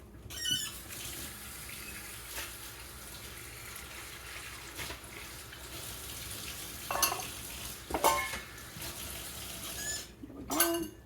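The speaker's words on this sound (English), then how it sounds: "we are going to go ahead and wash this bowl" A bowl being washed in a kitchen sink full of dishwater, with steady splashing and sloshing, occasional louder clunks and swishes, close by and without talk.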